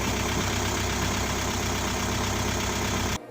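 Volkswagen Transporter T5 engine running just after a cold start following cylinder head repair, a steady close idle with a faint knocking rumble that cuts off abruptly near the end.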